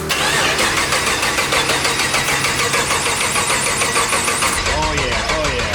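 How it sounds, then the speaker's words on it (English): A Whipple-supercharged LS3 V8 in a 1962 Chevy C10 stepside cranks and fires into a loud, dense roar that holds steady before easing toward idle, with people talking over it. "Go ahead, Dave, hit that ignition."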